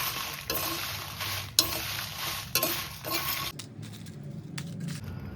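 Rasam powder spices are dry-roasted in a pan without oil and stirred steadily, producing a dry, rustling sizzle. A few sharp scrapes or clinks break in, and the sound thins out toward the end.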